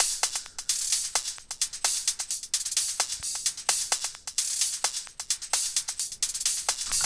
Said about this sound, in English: So together the percussion sounds like this of what we got so far.